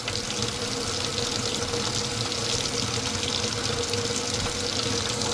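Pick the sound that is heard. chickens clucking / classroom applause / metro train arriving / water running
water running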